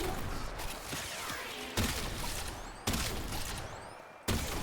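Rauta shotgun in the Warframe video game firing three loud, sharp blasts about a second apart at a heavy gunner, each followed by a short crackling tail, with no one speaking.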